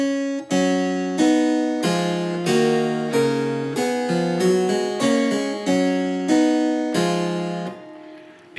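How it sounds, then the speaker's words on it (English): Bach's music read and played in reverse comes out as a steady instrumental run of about a dozen sustained notes and chords, each sounding evenly in measured succession, with no voices. "if you turn the music up the other way around and read it backwards,"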